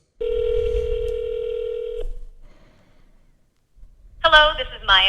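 A phone dials out to place a call: a loud, steady two-tone keypad beep holds for about two seconds, then falls to near silence before ringback or a voice-like tone rises near the end.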